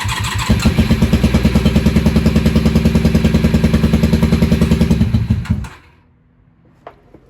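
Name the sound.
Honda Magna VF750C motorcycle engine cranking on choke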